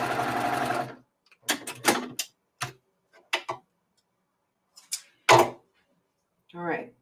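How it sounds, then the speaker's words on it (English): A sewing machine stitches quilt block pieces for a star flower block in short, close, rapid bursts of whirring stitches separated by pauses, with a voice talking at the start and end. "And now we're fixing to sew the whole 9 yards together."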